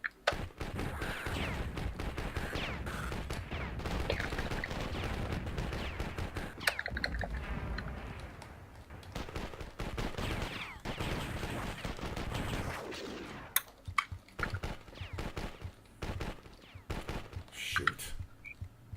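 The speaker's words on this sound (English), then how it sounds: "it's so hard to hit with just the machine guns" Machine-gun bursts from the Avara multiplayer combat game, rapid dense firing with impacts and explosions over most of the stretch, then sparser, scattered shots near the end; some talk may sit faintly under the gunfire.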